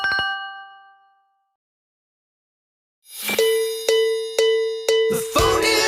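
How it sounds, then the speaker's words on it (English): Metallic ding tones of a phone ringtone: an opening chime fades to silence, then a series of bright, repeating clanging strikes builds loudly, with no talk. "The phone is ringing, can't you hear it?"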